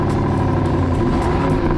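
BMW M550i sedan's 48V mild-hybrid V8 engine running loud and close, a steady deep rumbling drone with a sustained throaty tone.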